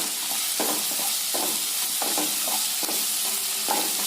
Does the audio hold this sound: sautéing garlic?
yes